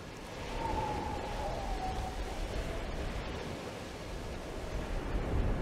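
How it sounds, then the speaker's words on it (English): Steady ocean surf washes continuously in a computer game, a broad rushing hiss of waves that rises and falls only slightly. "It really does feel like I'm at the ocean."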